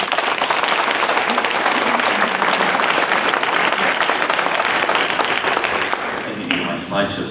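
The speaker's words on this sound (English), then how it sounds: "Everyone, a round of applause for Michael Swisher." Sustained, dense applause from a conference audience welcoming a presenter, steady and loud throughout before tapering slightly at the end.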